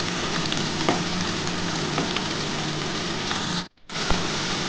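Bitter gourd and potato pieces fry in a pan with a steady, even sizzle that fills the whole stretch, broken only by a brief gap near the end before the hiss resumes.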